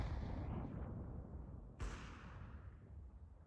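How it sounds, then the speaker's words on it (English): A grenade goes off in a tactical shooter video game, a single sharp blast about halfway through, rising out of a low rumble and then fading into a rolling tail. The sound is muffled and fairly quiet. "I'm throwing a grenade."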